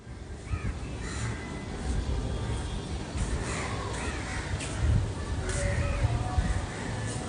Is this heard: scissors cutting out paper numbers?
no